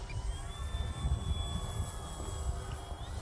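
Dynam Pitts Python RC model airplane flying outdoors, a steady electric motor whine with high tonal lines holding through the whole stretch, moderately loud over continuous low wind rumble.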